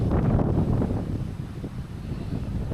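Steady wind rumbles and buffets against the microphone during a bike ride across the flat Żuławy Wiślane region of Poland, a low continuous roar that eases slightly partway through.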